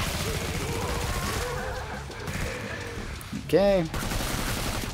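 Semi-auto rifle fire in the Killing Floor 2 video game, a dense run of rapid gunshots over game noise, with a brief spoken word and a creature's screech near the end.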